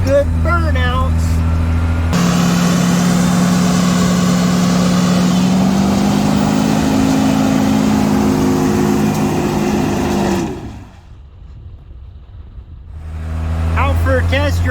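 A truck with a Cummins 12-valve diesel engine labors uphill on a test drive, a loud steady engine drone rising in revs, then easing off into near quiet before the engine picks up again; speech is heard over it.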